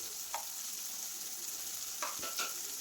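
Finely chopped onions for a palak and potato thoran sizzle softly in a pan, a steady low frying hiss with a few short scraping stirs of a spoon.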